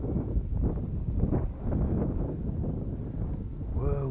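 Gusty outdoor wind buffets the microphone with a loud, rumbling low roar that swells and dips throughout, during a flight of a homemade foam RC plane, with a brief rising whine near the end.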